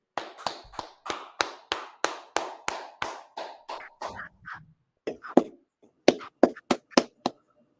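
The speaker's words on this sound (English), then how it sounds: "Clap it up." Sharp, distinct hand claps in a fairly steady rhythm, around twenty in all, from one or a few people at a brotherhood gathering, with a short irregular pause midway before the clapping resumes.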